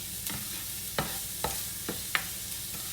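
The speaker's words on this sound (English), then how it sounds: "So I'm gonna saute my onions." Onions sautéing in butter in a pan, cooked for a chicken lemon avgolemono soup: a steady close sizzle with a few sharp stirring clicks and scrapes spaced through it.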